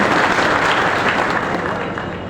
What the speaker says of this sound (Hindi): सबके लिए एक बार जोरदार तालियों के गड़गड़ाहट से स्वागत अभिनंदन कीजिए